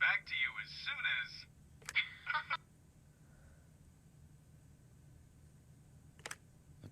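A short electronic tone sounds from an answering machine in the video game The Wolf Among Us, following a recorded greeting voice and then sitting alone in near-quiet before a faint click.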